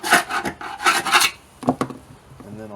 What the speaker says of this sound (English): I'll just scrape out the road oil and grease undercoating